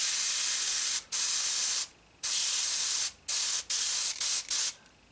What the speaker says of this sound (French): Je vais réduire le débit de ma peinture.